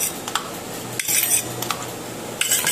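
Small steel katori bowls clink and knock as they are set down on a plate, a few sharp metallic taps spread over a few seconds at close range with no talking.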